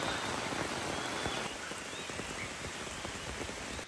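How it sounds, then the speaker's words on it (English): Rain falling during a hike in the Sumatra highlands of Indonesia, a steady dense patter of drops on surfaces and foliage, continuous and close, with no talk. "The rain has eased a little bit"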